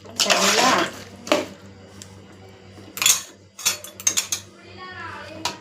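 Metal utensil scraping and clinking against a pot while ingredients are mixed before cooking, several bursts of clatter and stirring over a low steady hum, with brief background voices.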